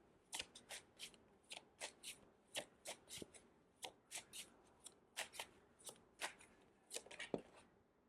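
A deck of tarot cards is shuffled by hand up close: a quiet series of crisp, rhythmic riffling flicks, roughly two per second, with no talking.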